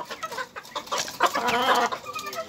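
A broodcock chicken clucks in short, close, repeated bursts at a small backyard poultry farm, busy and fairly loud with no talk.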